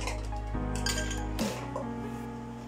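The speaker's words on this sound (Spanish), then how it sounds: "para comenzar vamos a ir agregando lo que es el hielo" Ice cubes clink and rattle as they drop into a blender jar for a frappé, a few bright clattering impacts close by and fairly quiet, followed by a softer tail of settling pieces.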